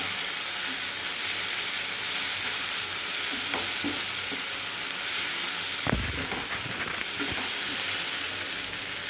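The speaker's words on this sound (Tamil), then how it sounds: "வெங்காயம் தக்காளி வதங்கினதுக்கப்புறம் இந்த ஸ்டேஜில் மிளகாத்தூள் ஆட் பண்ணிக்கலாம்." Onions and tomatoes sauté with chili powder in a pan for a murtabak filling, a steady close sizzle under scraping stirs, with one sharp clank of the spoon midway and no talking.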